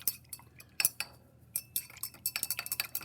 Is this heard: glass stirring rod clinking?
yes